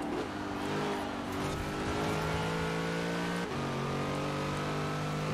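V8 car engine in Forza Horizon 4 revving and pulling through gears, a strong tonal drone climbing in pitch, briefly dropping at a shift, then rising again, steady and close with no talk.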